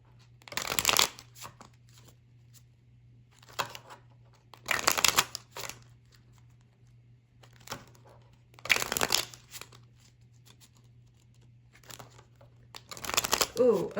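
Tarot cards being shuffled by hand, several separate crisp riffling bursts spaced a few seconds apart, close up, with a steady low hum and quiet pauses between them.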